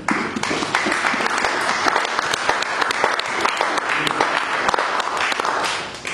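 A church congregation applauding during a pastor's sermon, dense sustained clapping from many hands filling a hall, loud and continuous before tapering off at the end.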